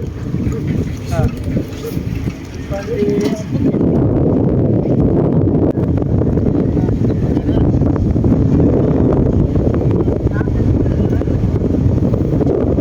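Strong wind at a hanging bridge buffets the microphone in a steady roar, with faint voices under the gusting noise.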